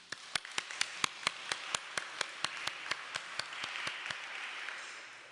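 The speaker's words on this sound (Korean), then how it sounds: "저희에게 설교해 주시고 축도해 주신 우리 한승혜 전도사님과 김정영 목사님께 큰 박수 부탁드립니다." A small church congregation claps for guest preachers with about twenty sharp, evenly spaced claps in unison, close and distinct, with softer scattered clapping and room noise continuing behind them.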